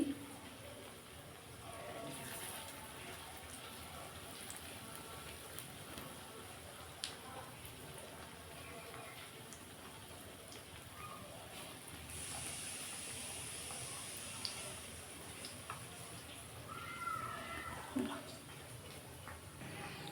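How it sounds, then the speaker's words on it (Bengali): Ridge gourd peel pakoras frying in hot oil give a steady, moderately loud hiss and crackle that runs unbroken for the whole stretch, with a few slightly brighter bursts near the end. "আমি এইভাবে সবগুলো ভেজে নেব"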